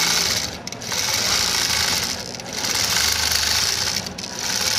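A Statler Stitcher computerized quilting machine sews with variegated thread, giving a loud, steady, fast mechanical whir that swells and dips slightly throughout.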